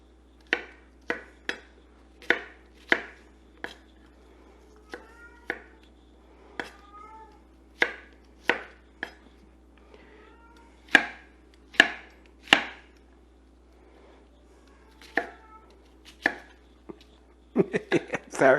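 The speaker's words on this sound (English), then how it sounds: "rough chop our onion." A knife rough-chops an onion on a cutting board, with a string of crisp, irregular knocks close by, and a cat meows several times in between the cuts.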